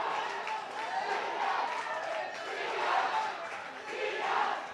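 A crowd at a rugby match cheers and shouts in a continuous, fairly distant roar that swells and dips, with no clear voices standing out.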